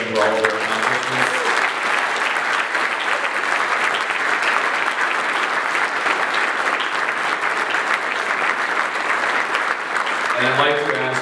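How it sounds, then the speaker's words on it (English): An audience at a cyber security hall of fame ceremony applauds award recipients with sustained, even clapping filling the hall, while a brief voice is heard at the start and again at the end. "if all of us could give them a warm round of applause"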